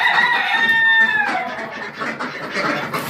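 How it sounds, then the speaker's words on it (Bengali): Chickens in a farmyard give a sharp, drawn-out call followed by scattered clucks, fairly close, with a faint voice in the background. "এখানে মুরগিগুলো দেখছেন"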